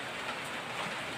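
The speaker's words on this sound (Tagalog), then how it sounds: "ang lakas ng ulan" Heavy rain pouring down in rural Nueva Ecija, a dense steady wash of hiss close by, brief and continuous with no voices.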